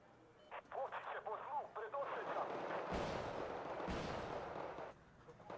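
In the Wargame Red Dragon video game, artillery bombardment lands as two heavy booming blasts about a second apart, loud and close, following a stretch of game radio chatter.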